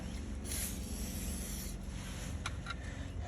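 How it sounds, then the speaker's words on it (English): Aerosol lubricant sprays briefly into the regulator assembly of a Ford car's electric window, a close hiss of about a second over steady background noise, followed by faint scraping. "I might just spray in there a bit with some lube."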